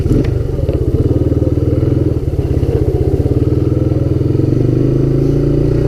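A Honda Big Red 250 three-wheeler with a freshly cleaned carburetor runs close by, its engine pulsing steadily and rising as it accelerates, loud and continuous with no talk over it.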